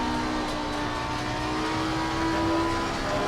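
Porsche race car engine howling at steady high revs on the Nordschleife in a racing game, a sustained near drone with a slight swell partway through and no talking.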